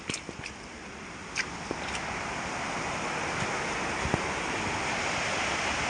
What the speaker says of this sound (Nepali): यता छ खोला, एलुङ खोला